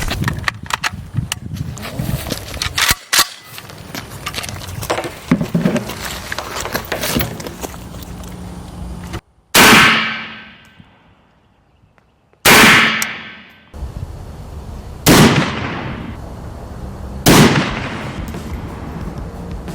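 Gunshots fired at a Spec Ops civilian armor plate carrier with Prime armor plates, including full metal jacket and hardened steel rounds, with several sharp, loud, separate cracks that each ring out and decay, after a stretch of clattering handling noise.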